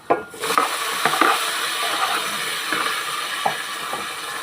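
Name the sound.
meat frying in pan for dinuguan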